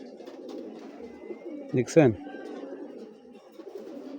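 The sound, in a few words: pied female racing pigeon cooing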